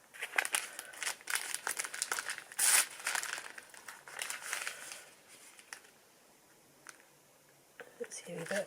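Paper crumples and crinkles in crisp bursts of rustling while a parcel is unpacked, close and quiet, with soft talking underneath and a quieter stretch near the end.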